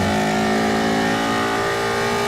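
A 2016 Ford Mustang Shelby GT350R engine holds a loud, steady high-pitched howl, sounding revved hard and close with a dense buzzing tone and no talk.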